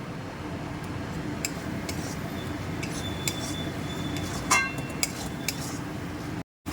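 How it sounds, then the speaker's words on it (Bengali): Masala spices and a little salt fry in oil in a pan for a fish-head dal, with a steady low sizzle, faint scraping and a few light metal clinks of a stirring spoon near the end. "এখন কিন্তু মশলাগুলো খুব ভালো মতনভাবে কষিয়ে নেব তেল ছাড়া পর্যন্ত। আর দিয়ে দিচ্ছি অল্প নুন।"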